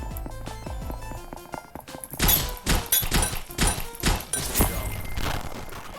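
A tomahawk thrown in the video game Ragdoll Universe lands with a burst of hard thunks and thuds, followed by a cluster of rapid, loud impacts that fade into a dull rumble.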